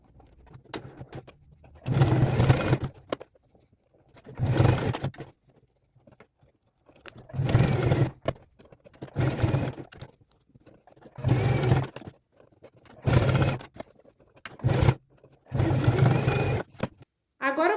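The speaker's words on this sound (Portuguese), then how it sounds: "a gente vem aqui e passa uma costura prendendo esse viés aqui em toda a volta" A sewing machine stitches bias tape around a blazer lining in repeated bursts of steady whirring, each a couple of seconds long with short pauses between, close and clear.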